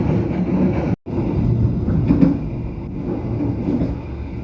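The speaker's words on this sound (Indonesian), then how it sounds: "Yang lewat itu kereta api Kamandaka, Joglo Semarkerto, dan kereta api bahan bakar minyak" Trains pass through Tegal station, including the Kamandaka, the Joglo Semarkerto and a fuel tanker train, making a loud, steady rolling rumble with rail noise that carries on throughout, broken only by one very brief gap.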